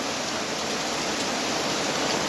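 Heavy rain pours down at night, a dense, even rushing hiss close by with no pauses or separate drops standing out.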